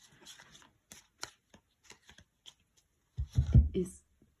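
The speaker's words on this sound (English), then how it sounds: "When I was shuffling the cards" Playing cards are shuffled close up: a series of soft, crisp riffles and flicks, then a louder burst of handling near the end.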